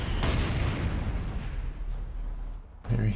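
Mortars fire in the Company of Heroes 2 World War II strategy game during a 1v1 match. There are two sharp, booming blasts, one near the start and one near the end, with a rumbling decay between them.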